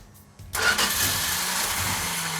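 A car engine on a classic dream car build cranks briefly, then catches and fires, settling at once into a steady, loud idle close by.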